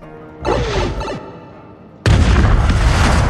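A sudden booming blast from a Bomberbill explosion in a Mario cartoon bursts in and fills the space, loud and roaring, after an earlier whooshing rush of noise.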